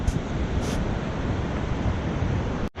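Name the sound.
rushing river water below a high viewpoint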